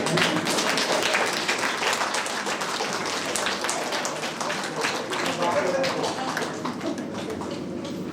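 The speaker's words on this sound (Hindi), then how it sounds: "तो उनको एक बार तालियां बजाएंगे।" Dense, steady applause from a gathered crowd fills a church parish hostel blessing ceremony in Ranchi, continuing evenly and moderately loud for over eight seconds, with voices mixed faintly underneath.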